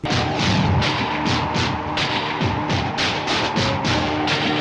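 A Tamil film hero-introduction background score by composer Mani Sharma plays loud and dense, driven by heavy percussive hits in a steady pounding rhythm over a thick, sustained orchestral bed.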